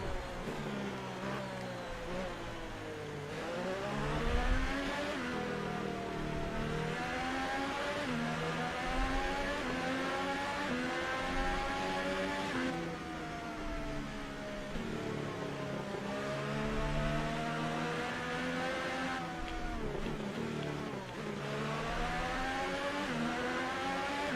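A Formula 1 car in the F1 2018 racing game drives steadily, its engine whining through repeated rising and falling gear changes, loud and continuous with no talk.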